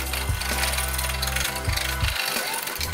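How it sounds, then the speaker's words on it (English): A rasp or file works the bowl of a wooden spoon, giving a dense, continuous scraping texture with a few rhythmic grinding strokes, loud and close throughout. "I'll use a rasp or a file"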